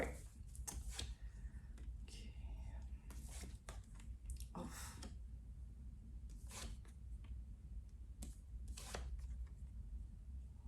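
A tarot deck is shuffled by hand, with repeated quick riffles and slaps of cards in bursts, close up and quiet.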